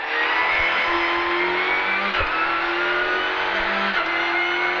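Renault Clio Rally5 race car engine pulling hard on a track, a loud, steady in-cabin drone with rising harmonics throughout and a brief shift dip midway.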